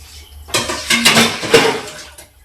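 Metal pots, plates and utensils clatter and scrape in a sink as they are scrubbed, several loud clinks and knocks in uneven bursts with brief quiet gaps and no speech.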